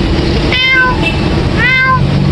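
A boy imitates a cat with his voice, giving two loud, close, drawn-out meows about a second apart over steady background noise.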